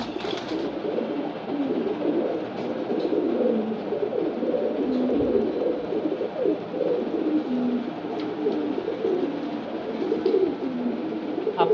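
Many pigeons coo continuously in a loft that houses around fifty birds, with low, overlapping throaty calls forming a dense, steady chorus close by and no talking.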